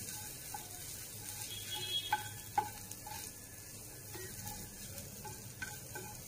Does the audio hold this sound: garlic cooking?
yes